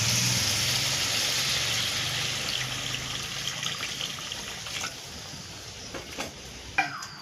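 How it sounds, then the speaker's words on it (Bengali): Water poured into katla fish curry in a pan, a steady gushing pour that tapers off into fainter sizzling and a few utensil clinks near the end. "এবার আমি পরিমাণ মতো জল দিয়ে দেবো"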